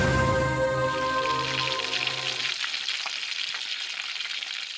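Food fries in a pan with a dense, steady sizzle, first under a held musical tone and then alone and crackling.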